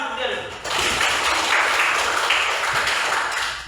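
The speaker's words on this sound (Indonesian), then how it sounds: "Tepuk tangan untuk dia dulu." Classroom applause breaks out abruptly and holds steady as a dense wash of clapping from a group of students, loud and continuous until it tapers slightly at the end.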